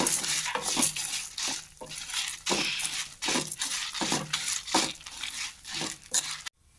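Ingredients for coconut idli podi are dry roasted on low heat, with rhythmic, close scraping strokes of a spatula across the pan repeating about once or twice a second.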